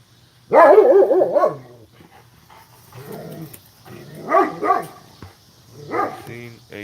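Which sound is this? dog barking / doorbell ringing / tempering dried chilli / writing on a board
dog barking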